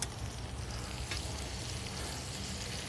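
Green bell pepper and onion sizzle and fry steadily on a hot discada, a dense, continuous crackle from close by with occasional stirring scrapes and no talking.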